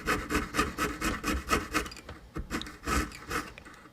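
A jeweler's saw cuts through metal to pierce out the inside of a design, giving close, steady rasping strokes in a regular back-and-forth rhythm with a short pause partway through.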